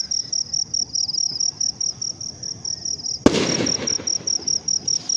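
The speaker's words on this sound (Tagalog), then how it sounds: "nagpaputok na ng nagpaputok na ng kwitis" A single sharp skyrocket firework bang goes off at night in a residential subdivision during the holiday season. It rises over steady, loud cricket chirping, which carries on alone before and after the burst.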